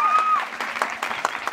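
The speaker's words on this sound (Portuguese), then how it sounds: "Palmas para ele," Short burst of audience clapping at an Indigenous youth event, scattered claps after a tone fades, moderately near with some voices underneath.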